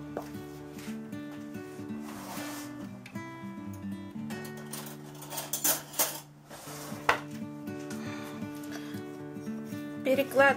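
Chunks of tuna are moved with a utensil into a bowl, giving scattered clinks, taps and scrapes of metal on dishware, close and intermittent against a quiet background with faint tonal sound.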